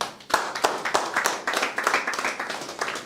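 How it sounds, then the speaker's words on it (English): An audience claps at an academy introduction event, a dense, lively round of applause with sharp hand claps sustained through the whole moment, close and fairly loud. "So clap for him again."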